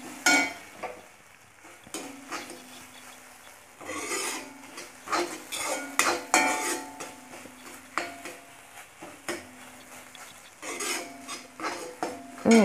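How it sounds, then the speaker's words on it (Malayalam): A spoon stirs ground masala paste in a pan, making repeated close scraping and rasping strokes in an uneven rhythm with light clinks of metal, while faint sizzling runs underneath. "അരപ്പിൻ്റെ പച്ച മണം മാറുന്നത് വരെ ഇളക്കി കൊടുക്കുക."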